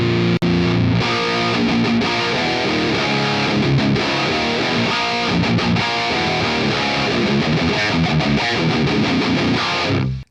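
Electric guitar through an Amped Block Letter amp on its American Dream preset, playing continuously with heavy distortion, loud and close for about ten seconds.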